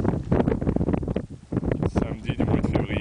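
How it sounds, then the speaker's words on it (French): Strong winter wind beside icy shoreline water, gusting buffets battering the microphone in uneven bursts, loud and close, with someone speaking briefly amid the roar. "Y'a beaucoup de vent?"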